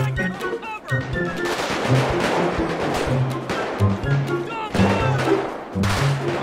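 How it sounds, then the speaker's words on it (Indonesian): Rapid bursts of video game gunfire in GTA 5 crackle repeatedly, loud and continuous, with overlapping shots and a busy, chaotic backdrop. "Masih banyak suara tembakan, teman-teman."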